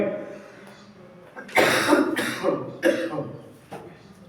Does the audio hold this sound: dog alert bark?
no